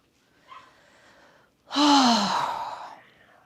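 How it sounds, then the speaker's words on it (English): A person lying on a mat during a Pilates session yawns once, a long breathy exhalation with a rising voiced tone, preceded by a faint soft breath. "I don't know why I'm yawning."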